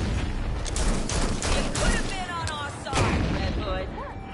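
Bomb detonation in the video game Gotham Knights, heard as a dense burst of booming blasts and crackling gunfire-like bangs in repeated waves, loud and close, with voices talking over the action.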